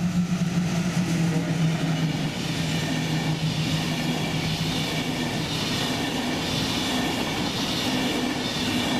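An ÖBB Railjet train rolls slowly past on a single-track section in Bavaria or Austria while braking, giving a steady, loud rumble of wheels and rail noise with faint squeal and clatter throughout.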